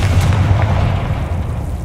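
A Confringo blasting spell goes off in Hogwarts Legacy, a deep booming explosion with a heavy low rumble that lingers and fades over about two seconds.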